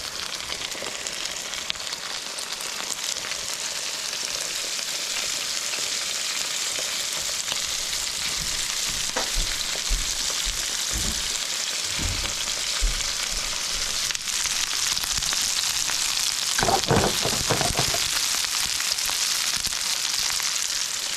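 Salmon and Brussels sprouts sizzle with jeera in a pan, a loud, steady, close frying hiss with occasional stirring scrapes and pops, and no voices.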